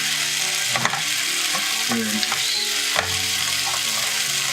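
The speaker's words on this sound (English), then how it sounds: "I love the sound of sizzling potatoes in the pan." Potatoes sizzle steadily in a frying pan, with a few scraping stirs along the way; a voice speaks briefly over the frying.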